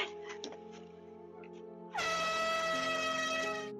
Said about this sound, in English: the woman in the family grabs an air horn and blasts it.